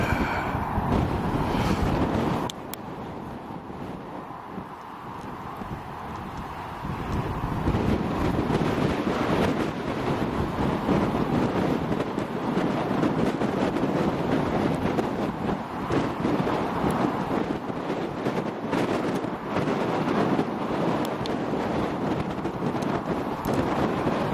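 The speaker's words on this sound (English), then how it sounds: "It's quite a wind blowing, so you might not be able to pick up what I'm saying." Strong wind blows across a hilltop at Brent Knoll in Somerset, a loud, continuous roar and buffeting rumble against the microphone that lasts the whole time with no talk.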